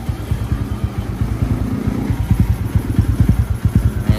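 A Yamaha Sniper 150 motorcycle with a UMA M9 ECU idles in a steady loop, its close, loud engine giving off a rapid, slightly uneven popping pulse throughout.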